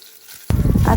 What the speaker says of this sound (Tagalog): nagprito nga rin pala ako ng pritong talong